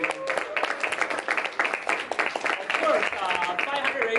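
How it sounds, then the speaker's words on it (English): An audience at a student Toastmasters closing address applauds with dense, steady clapping, mixed with voices and cheers throughout. "This is a huge round of applause."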